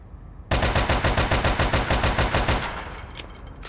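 Sustained full-auto rifle fire in The Division 2, a rapid run of about twenty evenly spaced loud shots starting abruptly after a brief quiet, then a fading echoing tail, with no talk.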